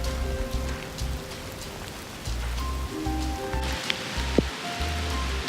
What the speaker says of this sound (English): I've always been kind of a big fan of the rain, and to me, this is cool.